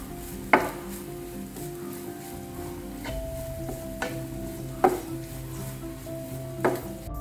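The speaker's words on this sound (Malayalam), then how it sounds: "അതേ പാനിലേക്ക് തന്നെ വെളിച്ചെണ്ണ ഒഴിച്ചിട്ട് തേങ്ങ ഒന്ന് വറുത്തെടുക്കാം." Grated coconut fries in coconut oil with curry leaves in a pan for Palakkad-style sambar: a faint, steady sizzle under low hum, broken by a few sharp clinks of a spoon stirring against the pan.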